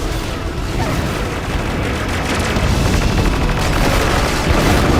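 Battle gunfire and explosions in the video game Battalion Wars 2, a loud, continuous barrage of machine-gun rattle and deep booms that builds slightly in intensity, with no voices.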